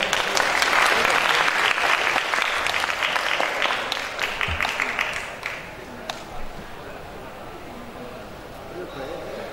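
An audience at a talk on twenty years of Linux in Indonesia applauds for the KPLU Jakarta community, loud clapping that fades after about five seconds into quieter room noise.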